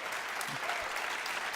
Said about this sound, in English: let's just give everyone a round of applause